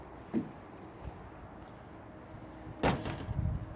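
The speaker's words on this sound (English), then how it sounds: "now we're going to open the cargo doors" Two solid door clunks as the cargo doors of a 1959 VW Westfalia bus open, a thud early on and a louder heavy latch and slide near the end, with quiet rustling between.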